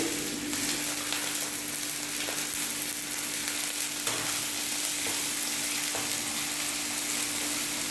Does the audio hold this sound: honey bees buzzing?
no